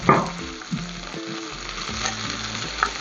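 Onions frying in a pan for shahi paneer sizzle steadily, with a few scraping stirs and clinks, close and alone with no talking.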